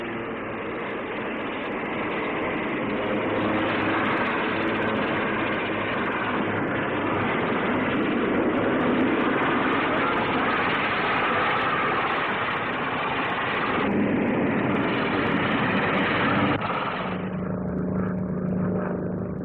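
The Fairey Rotodyne makes a flying display at Farnborough, and a continuous heavy engine and rotor roar holds steady for the whole stretch, shifting pitch slightly toward the end, loud and without speech.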